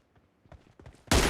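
A single loud gunshot burst in the mobile battle royale game BGMI arrives near the end, preceded by faint shuffling movement sounds and soft clicks.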